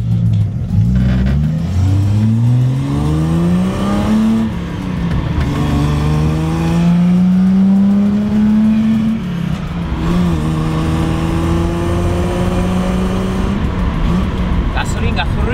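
A classic Datsun 240Z Fairlady Z with stale old fuel and a suspect clutch master cylinder being driven, its engine droning and rising through the revs up close, with people talking over it throughout.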